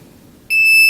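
Fluke VoltAlert voltage tester held against Christmas lights, a quiet lull then a sudden loud, piercing steady electronic beep that starts abruptly and holds.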